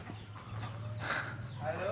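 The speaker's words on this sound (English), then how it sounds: "these guys have got roosters" Roosters kept by locals in Bali cluck softly in the middle distance over a steady low hum and some background noise, with a brief sharper call near the middle of the short stretch.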